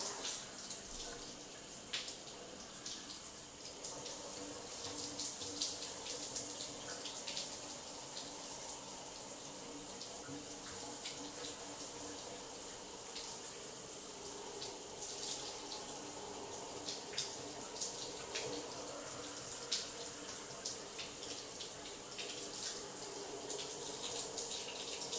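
Shower water runs in a steady, continuous hiss and patter for the whole stretch, with faint drips and splashes as it falls through wet hair during braiding; no talk.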